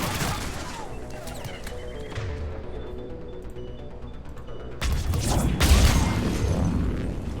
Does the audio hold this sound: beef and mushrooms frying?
no